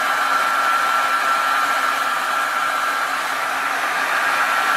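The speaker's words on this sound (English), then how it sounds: "Let me get the blow dryer here real quick." A blow dryer drying paint on whitetail deer antlers gives a steady, loud whirring hiss that stays constant throughout. No one talks.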